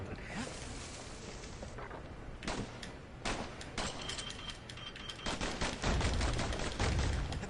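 Twin slinger pistols in a video game fire in sharp, rapid bursts, scattered at first and then denser and heavier toward the end, amid fight noise and a voice talking faintly.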